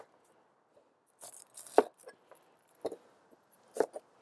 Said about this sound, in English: I'm gonna go ahead and cut a little bit of another onion here.